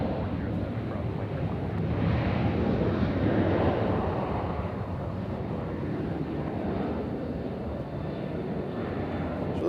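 An Avelo airliner at Nashville International Airport gives a steady, broad jet roar that swells slightly and then holds, with some wind noise on the microphone.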